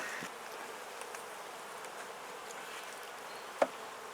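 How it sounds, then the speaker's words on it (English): Honey bees in a top bar beehive hum faintly and steadily, with a soft buzzing drone and one short sharp tap near the end. "The bees have been working hard."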